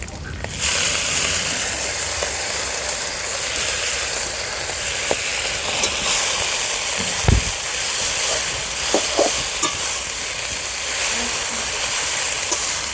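Fried small river fish and greens stirred in a hot pan, a steady close sizzle and hiss with occasional scrapes and clinks of the spatula, no talking.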